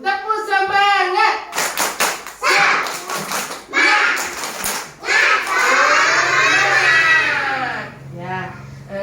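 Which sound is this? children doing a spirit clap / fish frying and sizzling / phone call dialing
children doing a spirit clap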